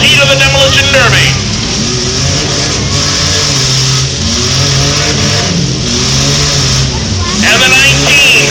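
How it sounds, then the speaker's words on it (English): Demolition derby cars rev loudly in the night feature heat at the Skowhegan State Fair arena, engines roaring and surging in waves close by while an announcer talks over the noise. "We still got most of the vehicles still going, still running in this Demolition Derby"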